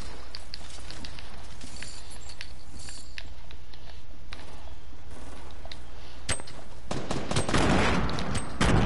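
Gunfire in a Fortnite battle royale match, rapid bursts of sharp shots and scattered single cracks close by, with a heavier flurry of fire near the end.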